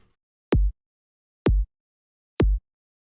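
Future house kick drum with a click layer and its rumble tail removed: three short, punchy hits with a sharp transient click and a tight low thump, evenly spaced about a second apart, alone with no talk.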